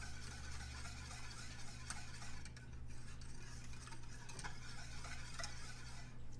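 A whisk scraping and stirring a thickening cornstarch fudge mixture in a pan, continuous close swishing with small rhythmic scrapes against the pan bottom, no voices.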